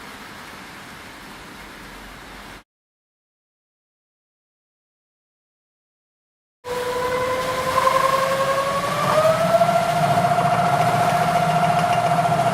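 A motor runs unloaded at high throttle advance of 54 degrees, speeding up from 600 to about 860 RPM. It gives a steady, loud drone with a rising whine after a stretch of silence.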